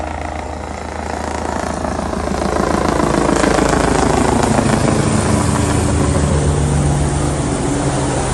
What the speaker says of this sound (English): yet another helicopter being taken down